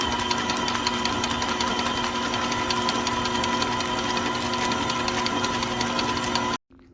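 Electric mixer creaming butter with egg yolks for peanut butter chocolate chip cookie dough, a steady close motor hum with a rattling beat that runs without a break, then cuts off abruptly.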